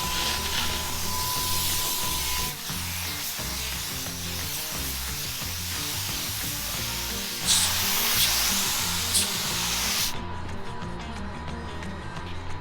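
A spray gun lays PPG EC530 clear coat onto an RV, giving a continuous close hiss of atomized paint with brief pauses and shifts in pressure over a low rumbling background.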